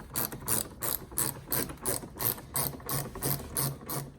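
A ratchet clicks in quick, even bursts of about a dozen strokes, close and fairly quiet, backing out a 7mm screw on a Ford Raptor truck fender flare.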